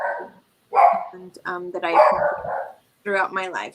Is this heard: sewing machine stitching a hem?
no